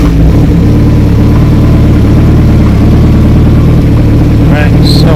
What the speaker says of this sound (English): I'm gonna fire up the bike